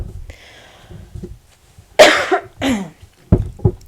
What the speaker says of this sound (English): Sorry about the cough